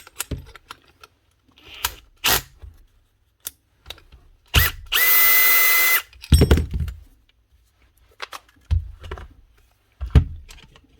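A Makita cordless combi drill stuck in hammer mode runs in one loud, close, steady burst of about a second and a half, surrounded by scattered clunks and tool-handling knocks.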